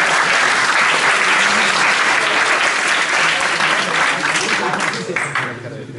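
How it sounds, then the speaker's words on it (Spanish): An audience at a university engineering student induction claps steadily for several seconds, loud and close, with scattered voices mixed in, before the applause thins out toward the end. "¡Aplausos!"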